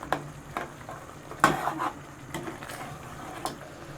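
Spice masala for mutton qorma frying in a pot, a soft sizzle broken by several sharp scraping stirs of a spoon against the pan, close and fairly quiet, with no talking.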